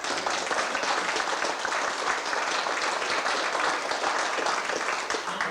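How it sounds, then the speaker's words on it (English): Sustained round of applause from an audience at a past pupils' school reunion, dense even clapping throughout at moderate distance. "give her a round of applause,"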